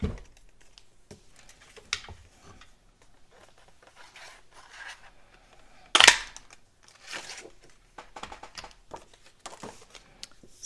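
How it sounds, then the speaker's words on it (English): A paper punch cutting cloud shapes from white cardstock gives scattered crisp clicks and rustles, with one loud sharp punch near the middle and quieter handling sounds of paper on either side, no talking. "I'm going to punch 4 clouds since I'm doing 4 cards"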